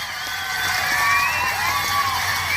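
A live audience at a public stage event cheers and whoops in a steady, lively crowd roar, children's shouts mixed in, moderately loud throughout.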